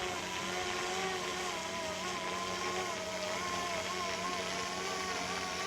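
An Airwolf RC helicopter descends to land with its gear dropping, giving a steady, high buzzing motor and rotor whine with slight pitch wavering, fairly close and continuous throughout.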